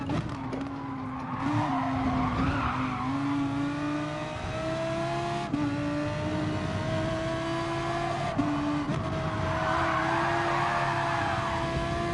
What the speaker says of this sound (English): Big drift.